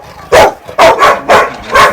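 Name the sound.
young mixed German Shepherd dog barking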